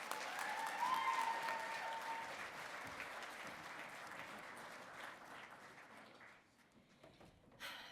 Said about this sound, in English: So let's give another round of applause to these amazing next generation leaders.